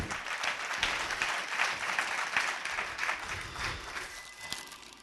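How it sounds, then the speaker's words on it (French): A church congregation applauds in a sustained burst of clapping, dense and steady for several seconds, with some voices mixed into the crowd noise. "Est-ce qu'on peut acclamer la parole du Seigneur, s'il vous plaît?"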